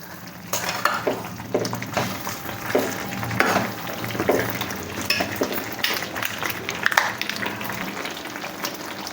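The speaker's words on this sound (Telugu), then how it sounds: "ఈ విధంగా దీంట్లో చివరిసారిగా కొంచెం కస్తూరి మేతి వేసుకొని ఈ విధంగా బాగా కలుపుకోవాలి." Chicken gravy in a pan, sizzling and being stirred after kasuri methi is added: steady frying hiss with repeated scraping spoon strokes, close, with no talking.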